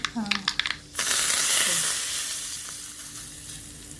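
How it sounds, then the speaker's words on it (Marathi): Hot tadka tempering poured into an iron bowl for a spinach uttapam, a few quick metallic clinks and a brief whine, then a sudden loud sizzle that hisses steadily and slowly fades, with faint talk nearby. "तडका बसतो ही लोखंडी वाटी आहे ना तडका बसतो"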